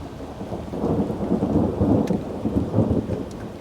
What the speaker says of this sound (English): But then around 8:30 an isolated thunderstorm developed.